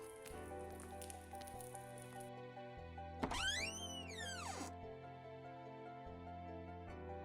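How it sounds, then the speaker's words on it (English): Heavy rain pours down in a zombie survival video game, a steady hiss of downpour mixed with in-game music tones and a brief swooping effect, with no talking. "Oh, isn't that just great? It's starting to pour down on us."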